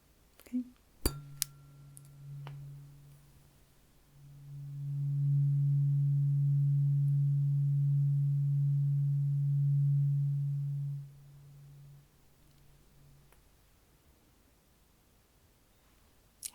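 A steady low sine beep for testing the ears sounds once, lasting about seven seconds and swelling in the middle. A few soft clicks and taps come before it, then near silence follows.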